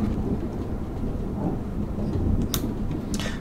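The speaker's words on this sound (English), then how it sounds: "The mic is right by a window, so you guys might be actually hearing the thunder." Thunder heard through a nearby window, a low continuous rumble with rain-like wash throughout and a couple of brief sharper cracks near the end, no talking.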